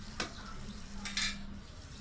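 Okra for bhindi do pyaza is stirred in a pan, giving a few faint, separate scrapes over a low, quiet sizzle with no one speaking.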